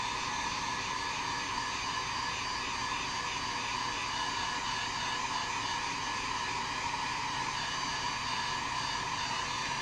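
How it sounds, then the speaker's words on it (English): Steady, loud whooshing blast of a heat gun or hair dryer setting paint between color layers on a rainbow trout fishing bait, continuous and unbroken throughout with no talk. "Right now I'm heat setting in between colors."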